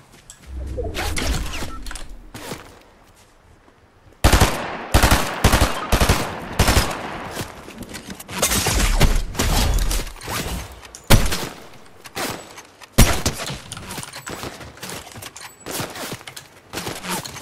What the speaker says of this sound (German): Okay, von hinter mir wird geschossen.